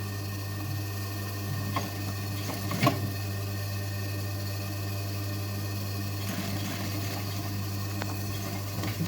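A sewing machine stitches a seam on a pair of jeans, running steadily with a constant motor hum and fine mechanical chatter, with a couple of brief louder clunks along the way.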